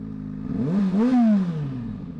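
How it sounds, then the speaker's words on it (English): A Kawasaki Ninja 600 sport motorcycle engine is heard close by, its pitch sweeping up as it revs, peaking, then winding back down into a loud steady drone. "It's a Kawasaki Ninja 600."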